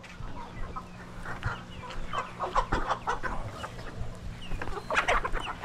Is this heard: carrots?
no